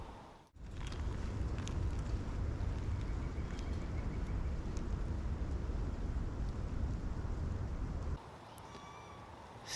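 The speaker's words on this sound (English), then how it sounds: "Still a bit breezy out there." Steady, loud wind gusting across an outdoor microphone on a breezy day, a continuous rumbling roar that drops off abruptly near the end.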